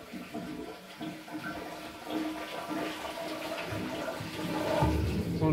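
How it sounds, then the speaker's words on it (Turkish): Water pumped under pressure into a plumbing system through a hose, the inlet line of a pipe-cleaning machine: a steady rushing, gurgling flow that grows a little louder toward the end, no talking. "Şu anda su basıyor sisteme."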